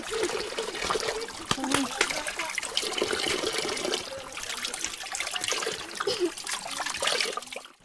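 Steady trickling and splashing of water in a small countryside stream, continuous and fairly close, with scattered brief knocks and no voices.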